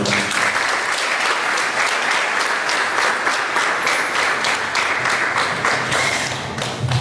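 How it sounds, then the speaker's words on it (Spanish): A crowd at a legal lecture gives loud, sustained applause for a speaker, many hands clapping in a dense, continuous roar that stays full for seven seconds before easing a little at the close. "para quien pido un fuerte y reconocido aplauso"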